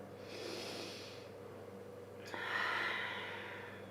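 Slow deep breaths from a person lying flat in shavasana, two long airy inhale-exhale sounds, close and soft, over a quiet room hum.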